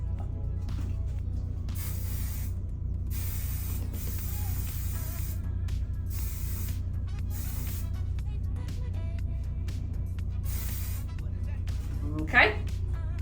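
Hair spray from an aerosol can hisses in several bursts of one to two seconds each, close and sharp, over a low steady background hum.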